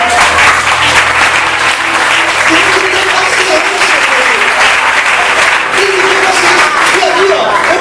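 Church congregation bursts into sustained, loud applause for the Lord during a Portuguese sermon, a dense wall of clapping lasting the whole stretch with cheering voices mixed in.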